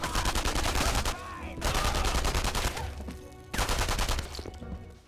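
Rapid bursts of automatic gunfire from the video game Enemy Front, loud and close, coming in three sustained volleys separated by brief pauses.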